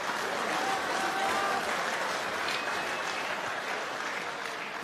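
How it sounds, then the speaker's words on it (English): A crowd at a boxing or fight event applauds two fighters standing at center ring, with steady, dense clapping that holds at an even level throughout. "Give them a big round of applause."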